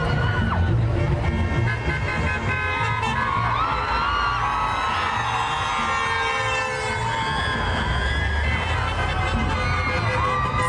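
A street crowd in Long Beach cheers and shouts at a rally, the voices rising and falling at a moderate distance, mixed with car horn toots and passing traffic.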